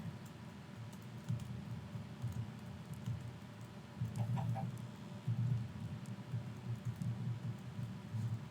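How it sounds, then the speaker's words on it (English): Minecraft chickens clucking in a video game, small repeated clucks over a steady low background hum, moderately faint with no talk. "There is a single chicken, and now there isn't a single chicken."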